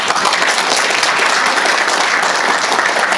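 Steady, dense applause from a crowd at a commemorative ceremony, continuous and loud throughout with no pauses.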